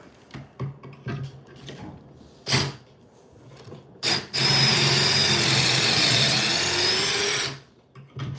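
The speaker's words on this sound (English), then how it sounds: "Make sure you're in drill mode, and then you go into action" A power drill bores holes through 1.25-inch material while building a game table, a sustained loud whirring grind lasting about three seconds after a few short knocks and handling sounds.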